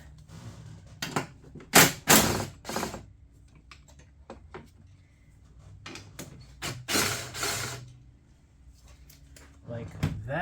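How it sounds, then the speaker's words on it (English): A 12mm socket ratchet clicks in short bursts as it loosens the battery hold-down clamps on a Yamaha golf cart with lead-acid batteries, mixed with metallic clunks and handling noises, while someone talks. "12mm socket will take off these hold down clamps"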